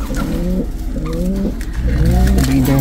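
Pigeons cooing in a loft housing nearly 500 birds, with repeated throaty rolling coos from several birds close by, layered over a low steady background rumble.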